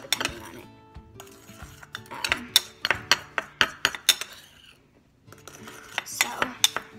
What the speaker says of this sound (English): So a spoonful, and you're gonna mix those together.